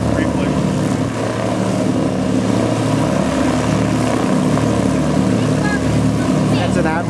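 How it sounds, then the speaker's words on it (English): A loud, droning Avro Lancaster propeller aircraft roars steadily overhead at an airshow throughout, with faint voices underneath the engine noise. "An Avro plane? That's a Lancaster. Avro Lancaster."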